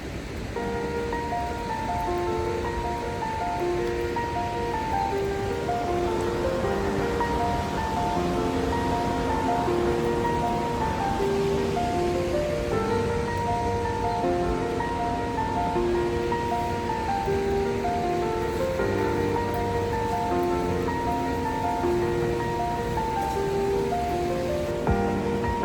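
Steady rain falls throughout a Himalayan mountain trek near Dovan, a dense continuous hiss with patter on surfaces and a constant loudness, mixed with low musical tones, with no talking.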